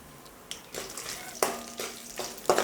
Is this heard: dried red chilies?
yes